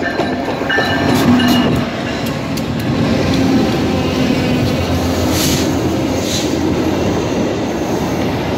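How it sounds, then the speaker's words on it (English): A VIA Rail passenger train arriving from Toronto rolls past up close at Woodstock, with a loud steady rumble of wheels, rail clatter, and faint squeals riding over the noise. "This train's coming from Toronto."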